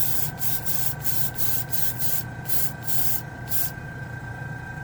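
Tamiya mixing paint sprayed from a can over a chrome piece, a series of short, close hissing bursts in an uneven rhythm ending in a longer spray.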